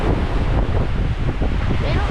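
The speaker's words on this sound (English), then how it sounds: "we've got some big waves, we got a little bit of water here." Large ocean waves of two to three metres and strong wind at sea on an offshore sailing passage, a loud steady roar of wind buffeting the microphone with surging water underneath and no talk.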